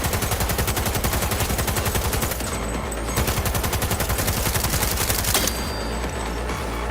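Rapid automatic gunfire from a weapon in Cyberpunk 2077, a dense sustained burst of shots firing continuously and loudly, with only a brief thinning partway through before the rattling fire picks back up.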